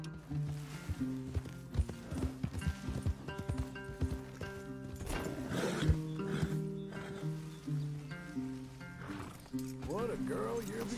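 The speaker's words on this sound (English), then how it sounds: "Leave the horses in the trees there." Horses in the video game Red Dead Redemption 2 moving through trees, with steady clip-clopping hooves and the occasional snort or whinny under almost constant talk and game music.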